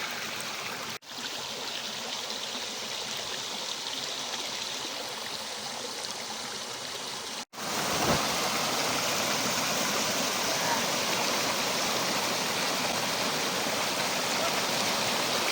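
A steady rush of falling water from a small waterfall in Zhytomyr region, Ukraine, broadband and continuous, growing slightly louder partway through, with no voices.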